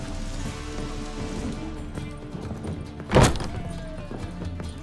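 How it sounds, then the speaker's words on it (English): Rain falls steadily in The Witcher 3: Wild Hunt, a soft continuous patter across the scene, with a brief loud thump near the end standing out above the downpour. "It's raining again."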